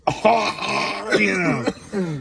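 A smoker coughs and clears their throat harshly several times in quick succession, close and loud.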